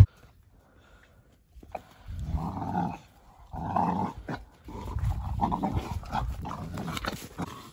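A little dog growls in low, rumbling bursts close by, three sustained growls separated by short pauses, with some panting breath between them.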